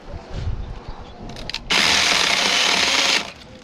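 A small Saker mini chainsaw cutting firewood bursts into a loud, steady high-pitched cutting whine for about a second and a half, after quieter clattering and handling sounds.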